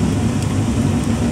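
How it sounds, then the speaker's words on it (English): Heavy rain pours down steadily on and around a small shed, a loud, dense, unbroken hiss with no voices. "It's pissing down."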